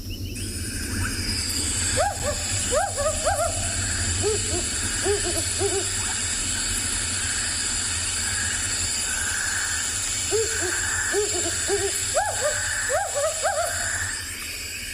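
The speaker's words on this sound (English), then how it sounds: "here's the wood owl call." A wood owl calls at dusk on a South African game reserve, its hoots coming in two clustered bouts of repeated notes, early and late, moderately near over a steady bed of evening insect hum.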